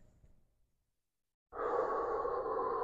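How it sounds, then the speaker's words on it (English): A relaxed, steady exhale, a long breathy rush of air that starts suddenly after a short silence and holds evenly to the end. "You're going to throw more consistency if you're breathing out, a nice relaxed breathing out every time."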